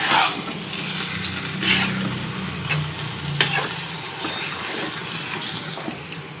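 Onions and tomatoes fry in oil in a pan, giving a steady sizzle with occasional stirring scrapes and clinks breaking through.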